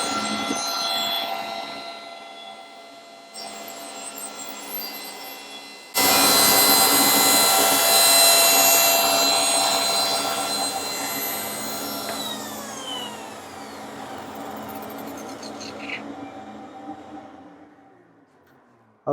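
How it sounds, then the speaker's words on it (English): A table saw rips a thin strip using a half fence: the blade whines as it spins up, then a loud steady cutting roar that gradually fades as the motor winds down, near and without talk. "let me start cutting this. I won't speak until after I get to the point where I can turn the saw off again"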